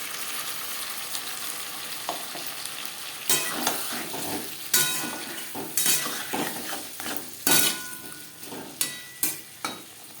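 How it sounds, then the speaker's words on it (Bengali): Potatoes fry in oil in a pan for a small parshe fish curry with green banana, a steady sizzle broken by sharp metallic scrapes and clinks of a spatula stirring. "2-3 মিনিট আলু ভেজে নেওয়ার পর দিয়ে দেবো টমেটো ও কাঁচা লঙ্কার পেস্ট।"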